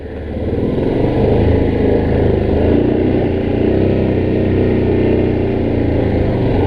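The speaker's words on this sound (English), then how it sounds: "Love the engine braking on these bikes." Motorcycle engine braking down a steep trail, a loud, steady, low-pitched drone with faint harmonic flutter, holding near and continuous from start to finish without talk.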